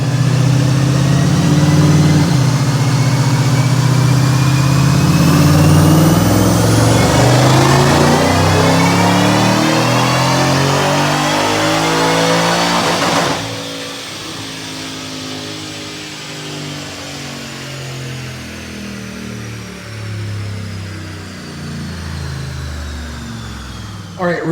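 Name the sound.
supercharged car engine revving on dyno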